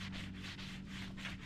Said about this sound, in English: out any rough spots on your stick using sandpaper